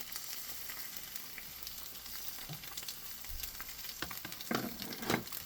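Three eggs fry in a pan with a continuous crackling sizzle, while a utensil nudges them apart, adding scraping bursts toward the end.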